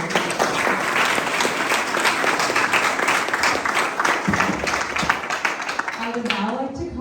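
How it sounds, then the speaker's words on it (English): A crowd at the opening of a Khalsa Aid office in Winnipeg claps for volunteers, a thick, sustained round of applause that holds steady and fades as a voice begins speaking at the end. "can we get a round of applause for them?"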